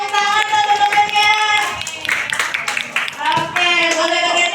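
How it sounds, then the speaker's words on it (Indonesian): Schoolchildren clap for a classmate during a dental check-up lesson on toothbrushing, uneven bursts of small hands clapping over a few seconds, mixed with voices talking. "langsung bisa beri tepuk tangan teman-temannya"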